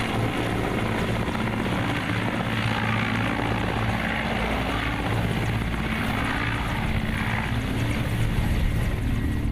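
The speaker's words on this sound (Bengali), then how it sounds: "হেলিকপ্টার আকাশে উড়ল বেলা 12:15টায়।" A helicopter in flight heading toward a remote hilly area of Bangladesh, its steady rotor and engine drone loud and close, continuous throughout with no talking.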